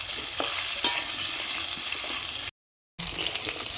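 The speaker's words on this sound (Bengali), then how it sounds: "এবার আলুগুলো একটু ভেজে নেবো।" Potatoes frying in oil with cumin in a pan over a wood-fired stove, a soft continuous sizzle with a few stirring clicks, briefly cut to silence before resuming.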